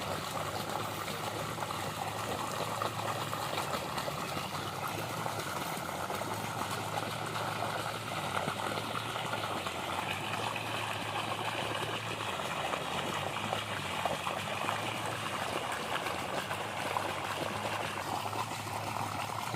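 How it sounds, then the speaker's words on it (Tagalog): Water from a solar water pump flows steadily into a tilapia fishpond, making a continuous splashing, trickling rush with a faint engine-like hum beneath. "ang source po ng aming tubig ngayon ay nanggagaling po sa solar water pump"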